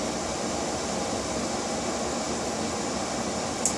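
A Samsung washing machine on a quick wash cycle fills with water sprayed into the drum, giving a steady, even rushing hiss that runs unbroken throughout with no talking.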